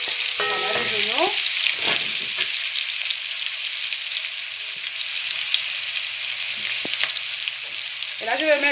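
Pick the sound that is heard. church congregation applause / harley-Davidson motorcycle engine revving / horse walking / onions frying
onions frying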